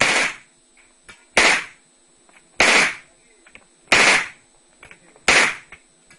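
Sharp gunshots at a shooting range during rapid-fire practice, five loud, close reports about 1.3 seconds apart, each with a brief echoing tail and some fainter pops in between.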